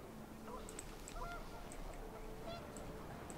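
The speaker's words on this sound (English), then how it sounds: "The wind picked up and panicked geese appeared and quickly went." Flock of panicked geese honking in the video game What Remains of Edith Finch, scattered calls repeating over wind noise, moderately distant.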